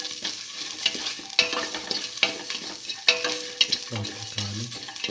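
Garlic frying in a pan and being stirred with a spoon: steady soft sizzling broken by repeated scraping and clinking strokes against the pan, close and moderately quiet, with no talking.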